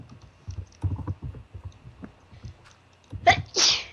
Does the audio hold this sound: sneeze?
yes